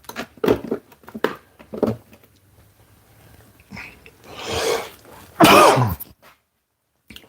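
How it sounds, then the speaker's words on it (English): Several harsh coughs and throat clearing come up close after tasting spicy homemade hot sauce, in irregular bursts. A louder, raspy fit follows near the end, with quiet gaps between. "making me cough"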